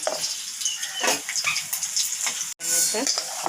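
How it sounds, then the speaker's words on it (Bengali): Onion and green chilli sizzle and crackle in hot oil in a wok, a busy frying hiss with intermittent stirring, briefly cutting out before resuming. "পেঁয়াজ আর কাঁচা লঙ্কা দিয়ে দিচ্ছি হালকা বেশি ভাজবো না হালকা ভাজবো"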